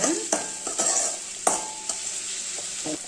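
Tomatoes and onions sautéing in oil for idli sambar, a steady sizzle punctuated by a handful of sharp spoon stirs and scrapes against the pan, close and clear with no talk.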